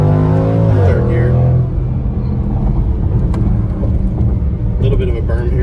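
A 2019 Jaguar F-Pace SVR accelerates through first, second and third gear. The loud engine drone rises in pitch, drops at a shift, then keeps up a strong steady rumble, with someone talking over it.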